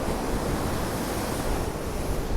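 Big sea waves crash under strong wind on the Blackpool shore of the Fylde Coast, a loud, continuous roaring wash with gusting noise and no voices.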